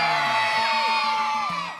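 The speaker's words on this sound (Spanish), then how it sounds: "A ver, griten otra vez." A studio audience at a Spanish-language TV show shouts, whoops and cheers loudly as one crowd, with a steady roar that fades slightly at the end.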